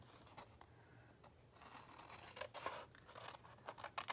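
Scissors trim scored paper for a handmade gift bag, up close and quiet, with crisp snips and papery crunches that build into a denser run of cuts near the end, with no talking.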